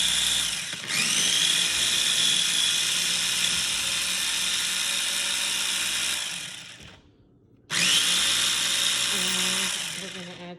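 A food processor whirs loudly, chopping salsa verde with olive oil in long steady bursts, stopping briefly before starting again, up close in a kitchen.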